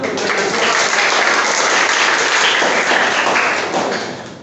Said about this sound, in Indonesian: Selalu tepuk tangan